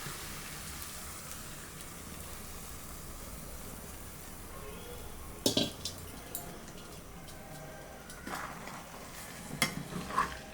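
Beaten eggs get stirred into cauliflower in a pan, a faint steady sizzle with occasional sharp scrapes and taps of a utensil against the metal.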